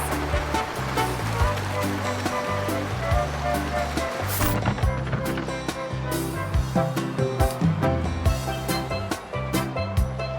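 Surfing across waves in the video game Genshin Impact, a rushing, splashing water wash layered under a busy, rhythmic game music track and other effects, fairly steady over the whole stretch.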